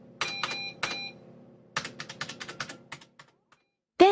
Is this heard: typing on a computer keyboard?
yes